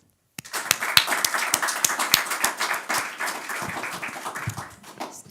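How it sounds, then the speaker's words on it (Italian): An audience applauds steadily at a Prosecco Superiore spring event, dense clapping that starts abruptly and holds for several seconds before thinning out, with no talking. "Per cui credo che ti meriti un applauso."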